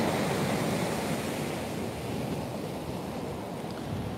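Sea waves break continuously on Trimingham Beach, a shore-fishing spot, in 40mph winds and rain, the surf a loud, steady roar mixed with gusting wind buffeting the microphone, with no gaps or voices.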